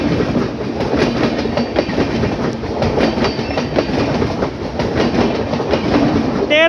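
The Amritsar Howrah Mail passenger train, led by a Howrah-based locomotive, passes close and loud, with steady clickety-clack of wheels over rail joints and continuous rumble throughout.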